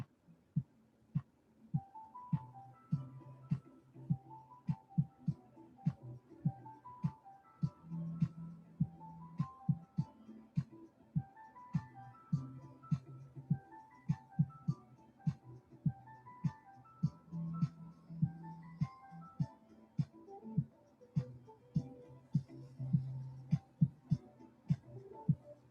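A 1966 Husqvarna Viking 19E sewing machine stitches at a steady pace, giving evenly spaced thudding needle strokes over a low motor hum, close and continuous for a long stretch without talk.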